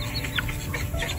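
A chicken being checked for readiness to go outdoors, tested against fence spacing in a pen, gives a few soft, brief clucks and chirps close by over steady low background noise, with no talking.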